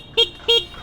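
Two short, bright beeps from the horn of a 2024 Yamaha Fazzio scooter, each roughly a tenth of a second, sounding fairly thin and weak, with a faint hum remaining after them.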